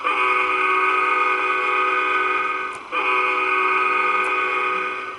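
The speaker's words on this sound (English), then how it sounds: "That's 2 long blasts of the horn, 1 short, and another long, so 3 longs and a short." CSX freight train horn sounding the grade crossing signal, loud and close, with long sustained blasts and a brief dip between them, the multi-tone chord ringing steadily without any talk.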